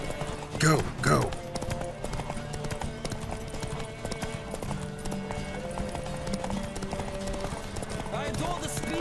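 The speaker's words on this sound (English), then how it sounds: "Don't spare the horse!" Hooves clip-clop at a fast, driving gallop during a horse race in The Witcher 3: Wild Hunt, loud and close, with a short whinny near the start and a voice calling out over the running.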